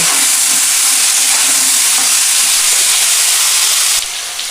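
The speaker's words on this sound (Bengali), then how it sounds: "দেখুন 2 মিনিট আমি ভেজে নিয়েছি।" Flat beans (sim) fry in oil over medium heat, a loud, continuous close-up sizzle and hiss that holds steady and drops slightly at the very end.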